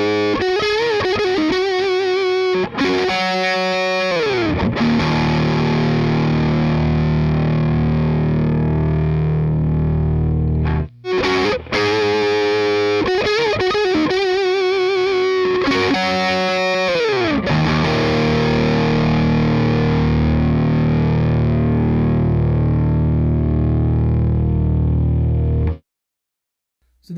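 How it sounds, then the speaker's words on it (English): An electric guitar plays through an amplifier in passages compared with a tube rectifier and a solid-state rectifier, moving between clean and distorted tones with strummed chords and sustained notes, loud and up close, with brief pauses between sections. "a couple of passages on clean and distortion, both of them each using the tube rectifier and the solid state rectifier"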